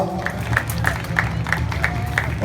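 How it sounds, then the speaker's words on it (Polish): Audience applause after a fencing bout at a tournament, a short burst of crowd clapping with a regular rhythmic beat over a hall's background murmur. "Gromcie teraz już absolutnie brawa!"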